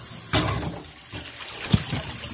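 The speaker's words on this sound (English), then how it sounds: "Strain and rinse with clean running water to get rid of any vinegar that's on the pork." Pork rinsed under clean running water to wash off vinegar, a soft steady stream splashing and trickling close by, with a couple of brief knocks.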